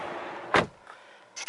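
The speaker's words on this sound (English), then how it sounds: "Close the door here." Rear door of a 2021 Genesis GV80 SUV swung shut with a single solid, deep thunk at close range, followed by a brief faint click and a small rattle of settling hardware in a quiet cabin.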